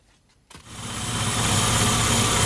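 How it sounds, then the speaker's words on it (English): A car engine on a rolling road dyno catches after a brief quiet moment and settles into a steady, loud, close idle rumble. "You can hear that the idle speed has decreased and the timing is now around 12 degrees,"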